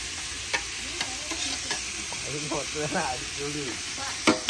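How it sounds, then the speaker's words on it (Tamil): Onions fry with salt in a pan with a steady sizzle, joined by scraping stirs and a few clinks of the utensil, close by with no talking. "உப்பு போட்டபடியா வெங்காயம் அப்பன்னு வதங்கிட்டுது"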